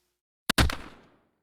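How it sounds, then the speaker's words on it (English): Two sharp, loud gunshots hitting metal in quick succession, the second ringing out with a short metallic decay. "2 gunshots impacted metal."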